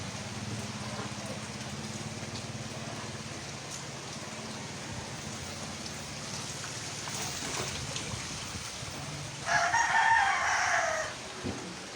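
A rooster crows loudly near the end over a steady background hum, with softer fowl sounds earlier.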